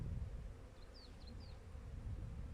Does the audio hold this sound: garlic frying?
no